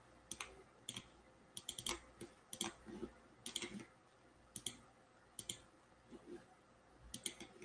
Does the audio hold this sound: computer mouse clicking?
yes